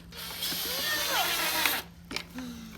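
Power drill driving screws into a ride-on toy car battery: a short whirring run with a rising and falling motor whine, then a brief burst and a low hum, as a voice speaks nearby.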